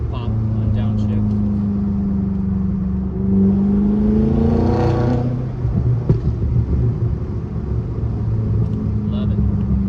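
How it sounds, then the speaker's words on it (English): A BMW F10 M5 with Turner muffler-delete exhaust rumbles loudly, its revs rising and falling on a downshift, followed by a few crackling pops; someone talks over the engine noise. "Just give a little pop on downshift"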